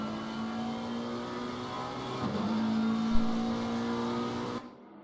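McLaren GT3 race car accelerating at Misano, a steady loud engine drone with rising harmonics that holds for several seconds, then cuts off abruptly near the end.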